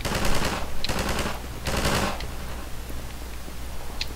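Bursts of automatic gunfire in Half-Life 2, a few loud rattling volleys in the first two seconds followed by sparser, quieter shots and clicks.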